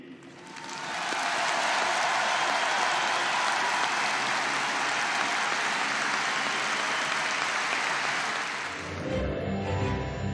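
A huge crowd at an outdoor tribute concert swells into thunderous, sustained applause that roars for several seconds before fading as music rises beneath it.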